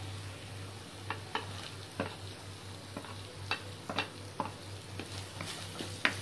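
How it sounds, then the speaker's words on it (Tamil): Green chilies fry in oil over ginger-garlic paste, a steady close sizzle broken by frequent light clinks and scrapes of stirring, over a constant low hum. "பச்சை மிளகாவை ஆட் பண்ணி கொஞ்சம் ஃப்ரை பண்ணுறேன்."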